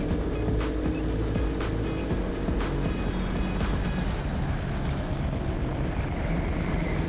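Go-karts race around an indoor arena track, their small engines droning steadily and mixing together near and loud for the whole stretch.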